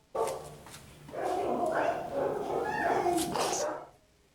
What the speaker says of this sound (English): Make sure everyone knows there's a loose dog.